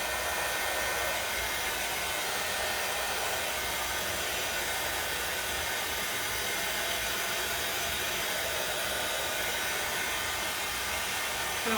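A hair dryer dries a painted pumpkin made of wooden craft sticks, giving a continuous airy hiss and whoosh at steady volume for the whole stretch, with no talk over it.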